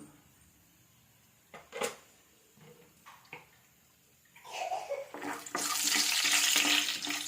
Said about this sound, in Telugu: ఇందులోకి వేరుశనగ గుళ్ళు వేసానండి వేయించి పక్కన పెట్టేసుకుంటాను